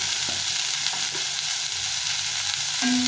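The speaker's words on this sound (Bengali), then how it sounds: "এটাকে ভালো করে ভেজে দিতে হবে" Magur catfish seasoned with salt and turmeric fries in a pan with a dense, loud, continuous sizzle close up, and a faint stirring knock comes through near the end.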